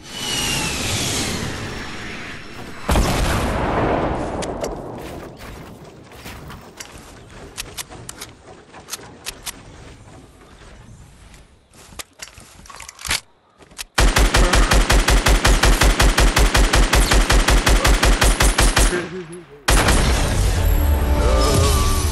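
Rapid automatic gunfire from a squad-based shooter video game, loud and sustained with dense bursts, booms and crackling shots throughout, the heaviest continuous firing in the second half.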